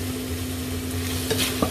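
Choy sum with mushrooms and meat stir-frying in a pan with oyster sauce and a splash of water, a steady close sizzle with a couple of brief stirring scrapes near the end.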